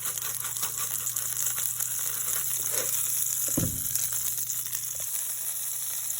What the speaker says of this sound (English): I'm just going to let my spices cook for a couple of seconds